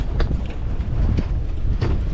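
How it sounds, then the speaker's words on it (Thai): Wind blows across a sea fishing boat, a steady low buffeting rumble with a few brief gusty bursts. "ลมมาแล้วพี่น้อง"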